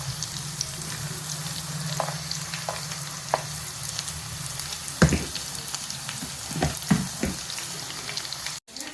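Spices frying in oil for a masoor dal tadka, a steady close sizzle with a few sharp crackles and stirring clatters toward the end, no voices.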